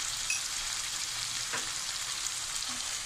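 Cumin-turmeric spice paste for prawn malaikari fries steadily in a pan, a soft continuous sizzle with faint crackles, close and moderately quiet, no talking.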